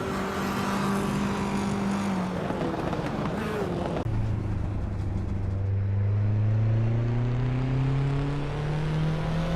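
Holden Commodore and Nissan Skyline race cars on a tight Seattle circuit, engines droning loud and steady with rising and falling pitch as they accelerate and pass, one car dropping to a deep growl midway.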